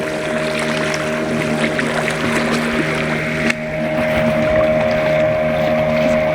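A motorboat engine drones steadily nearby over open floodwater near Sirumugai forest, with wind buffeting the microphone throughout.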